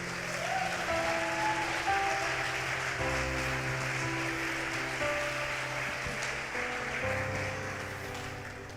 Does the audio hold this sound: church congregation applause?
yes